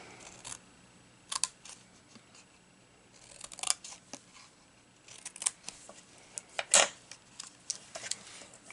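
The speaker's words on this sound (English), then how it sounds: "looks like my scissors need to be cleaned. They're getting sticky." Intermittent crisp snips and rustles, scattered irregularly across a quiet background, like sticky scissors cutting through paper close by.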